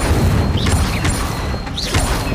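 The Incendio fire spell cast in the Hogwarts Legacy video game, heard as a loud rumbling whoosh of flame with brief whistling magical swishes, a couple of bursts within a few seconds.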